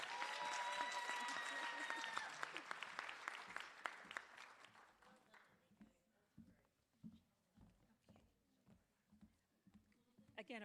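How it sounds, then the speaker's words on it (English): Audience at a nursing graduation ceremony applauds, a dense burst that fades over a few seconds into scattered single claps and shuffling, with a faint sustained tone during the loudest part. "So please, a round of applause again for Anika Christian."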